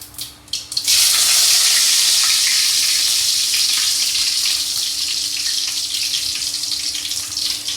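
Curry leaves hit hot oil for a Tamil paruppu kulambu and erupt into a loud, sustained sizzle after a couple of brief clinks, the crackle staying strong and close throughout.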